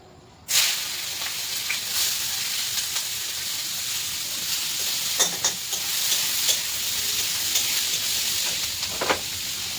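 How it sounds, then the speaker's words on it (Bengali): Onions frying in hot oil in a home kitchen, a steady close sizzle that starts abruptly and runs throughout, with occasional stirring clicks and pops rising above the hiss. "এই তেলটার মধ্যে আমাকে দিতে হবে এখন আমি পেঁয়াজটা ভাজি নেবো"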